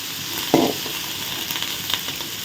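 Onion, green chili and curry leaves hit hot oil in a pan with a short loud burst of sizzle, then settle into a steady quieter frying hiss with faint stirring.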